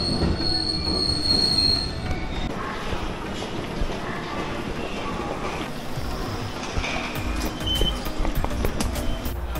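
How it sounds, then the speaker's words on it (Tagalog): Train cars running on rails in Osaka, with loud, sustained wheel squealing over a continuous rumble and rattle throughout, heard up close from inside or beside the train. "So ayan, sakay lang tayong ibang train."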